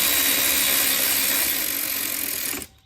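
A power tool whirs continuously on brake caliper bolts of a Harley Davidson Road Glide Special, close and fairly loud, then cuts off abruptly at the end.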